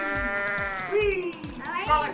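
A goat bleats in the Goat Simulator video game, several drawn-out harmonic bleats in close succession, loud and near, with a voice talking around them.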